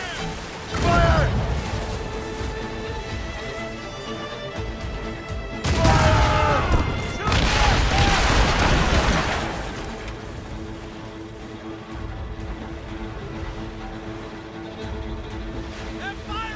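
Ship cannons boom in a naval battle in Assassin's Creed Rogue, heavy blasts landing in two big bursts with crashing debris and rumbling water, loud and close, while voices shout orders over the din and music plays underneath.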